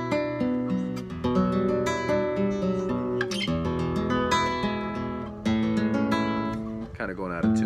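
A 1980s Candelas classical guitar, built by luthier Candelario Delgado and slightly out of tune from the sun, plays a continuous run of plucked notes and chords, close and warm, with no talking.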